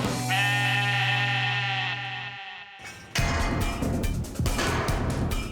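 A freshly sheared sheep lets out one long, loud, wavering bleat up close, followed by a burst of clattering, crashing noise.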